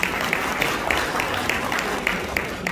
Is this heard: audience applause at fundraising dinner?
yes